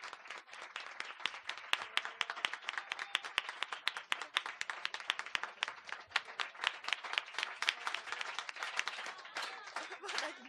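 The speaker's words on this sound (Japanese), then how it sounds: "大きな拍手をお願いいたします。" A cafe audience at a small art and social business event applauds two performers, with many hands clapping in a steady, fairly faint patter for about ten seconds before it thins at the end.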